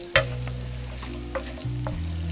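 Onions frying in ghee in a pan for an aloo anday (potato and egg) dish, a steady close sizzle under a low electric hum, with a few stirring clatters.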